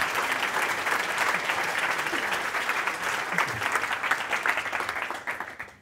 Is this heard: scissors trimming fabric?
no